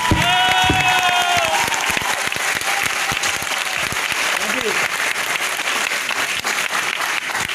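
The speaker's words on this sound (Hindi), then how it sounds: "तो भाई ताली बजाओ तो बजाओ" An audience at a business leadership program event claps loudly and steadily throughout, a dense sustained burst of applause with scattered cheers, while someone speaks over it.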